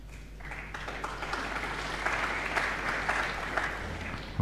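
About two thousand spectators at an Alexandra Palace snooker evening fill the hall with a steady, moderately distant buzz of chatter and light applause, swelling slightly toward the end.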